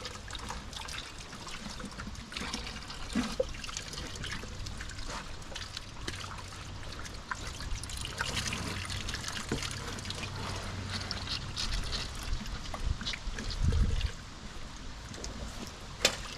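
Water runs from a garden hose in a backyard chicken run, a steady trickling and splashing under faint outdoor ambience, with occasional soft bumps.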